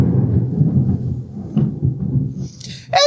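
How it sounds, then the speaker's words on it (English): Thunder from a storm rolls as a long, low rumble that swells and fades across the clip, then a brief higher-pitched noise cuts in near the end. "It's thunder and lightning out there."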